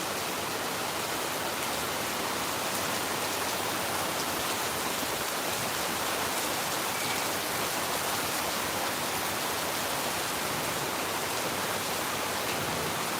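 Steady rain pours down in Phnom Penh during the rainy season, a dense, even hiss of drops on surfaces that holds without a break from start to finish, with no voices.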